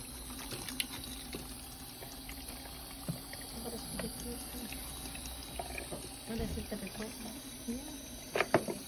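Water from a salon rinse runs steadily over hair after a perm, a soft continuous spray and trickle at low volume. People talk quietly over it, and a few louder splashes come near the end.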